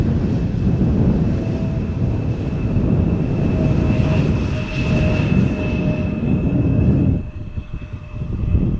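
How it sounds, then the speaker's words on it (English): A KLM Boeing 737 arriving from Dublin at Schiphol Airport, landing into a steady south headwind: a loud, continuous jet roar with a faint whine, holding steady before dropping off sharply near the end. "737 from KLM arriving from Dublin"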